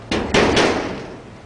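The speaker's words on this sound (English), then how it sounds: "Can you say knock knock?" Three quick knocks on a closed door, sharp and close, the second and third a little louder, followed by a short fading ring and no voices.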